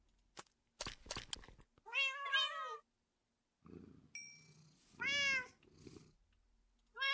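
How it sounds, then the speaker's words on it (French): Cats meowing in a video game, several separate drawn-out meows in two clusters with scattered clicks and a faint chime between them, fairly quiet overall. "ils font que miauler, ça va être insupportable pour la fin"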